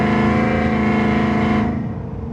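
A cammed truck engine with cylinder deactivation deleted roars loudly up close in a steady, harsh drone, then eases off slightly toward the end.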